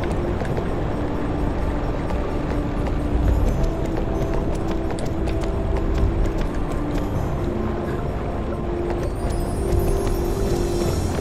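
Video game horse galloping in Barbie Horse Adventures, a steady clip-clop of hooves running continuously over game music and ambient noise, with no talk.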